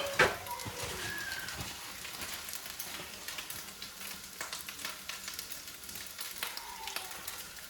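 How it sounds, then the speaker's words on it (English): Soft, steady sizzling of steak and rice in a hot pan with faint clinks and stirring sounds, a bird cooing distantly in the background. "Just let this sizzle up."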